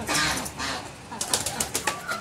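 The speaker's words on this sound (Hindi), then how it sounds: "तो कबूतर हमारे बिल्कुल भूखे हो रहे हैं, तो पहले इनको मैं दाना दे दूँ।" Hungry pigeons being fed grain on a pet farm, with a burst of wing flaps and soft cooing in busy close-up bursts, some louder flutters toward the end.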